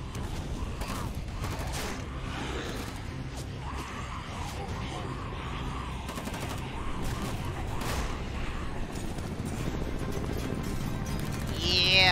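Rapid bursts of gunfire ring out in the survival shooter LifeAfter, mixed with clattering game effects and continuing throughout, while a player talks over the action.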